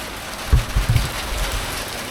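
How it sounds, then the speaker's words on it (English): Rain falling outside a garage during door repair work, a hissing wash of drops with a few heavier patters and thumps on a surface early on, close and fairly loud. "Oh, it's raining."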